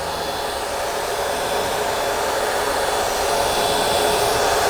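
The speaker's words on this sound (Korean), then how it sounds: "드라이기를 왔다 갔다 한다." A hair dryer blows steadily on foil wrapped around dyed hair during hair coloring, a loud, constant, close whooshing roar with no talk.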